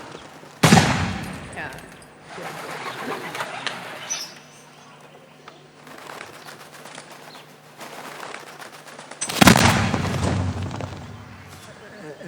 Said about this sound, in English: she enters through the sound of pigeons and the sound of shooting